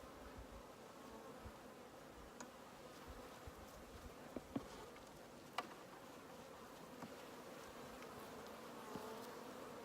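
Angry honeybees buzz around a winter hive, a quiet continuous hum with a few sharper passes of single bees close by, and no one talking.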